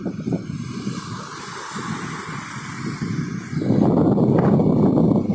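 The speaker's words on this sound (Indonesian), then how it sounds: "angin bertiup, ombak pun juga tidak terlalu besar" Wind blowing on a beach near small waves as fishermen paddle a net-fishing boat toward shore, a rough broadband rush that grows louder and fuller in the last seconds.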